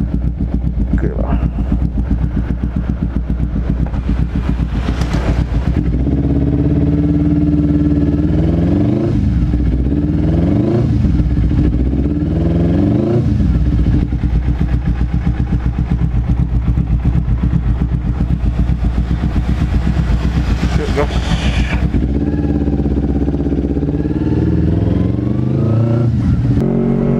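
A Kawasaki Ninja 250 carbureted motorcycle with a long header and long silencer exhaust rumbles steadily while riding, with several rising revs and gear changes, as a rider talks over the engine throughout.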